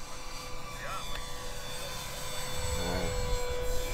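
The twin engines of an Avios KingTwin RC airplane drone at full power during a climb-out, giving a steady whine with shifting pitch. People talk over the engine noise.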